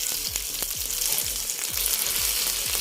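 A fish fillet sizzles and crackles in a hot frying pan, a loud, steady hiss close by with faint repeated low pops and knocks as it cooks, with no voices over it.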